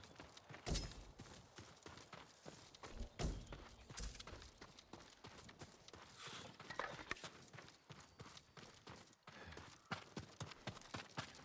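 Horse hooves clip-clop in a steady walking rhythm in the samurai game Ghost of Tsushima, fairly quiet and mid-distance, with soft thuds and ambient game sound around them.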